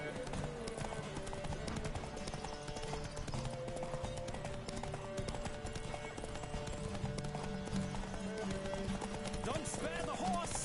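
Fast, steady hoofbeats of a galloping horse in The Witcher 3 race along, close and continuous, mixed with game music and speech.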